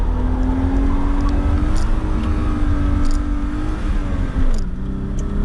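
Car accelerating through the gears, a loud close engine drone whose pitch climbs steadily, dips at a shift, then starts rising again, heard from inside the car.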